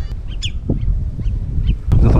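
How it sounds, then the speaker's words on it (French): Birds calling at a beach in southern France: several short, mid-pitched calls come in bursts over steady low wind and surf rumble, with a louder noise swell at the end. "Vous entendez les oiseaux là?"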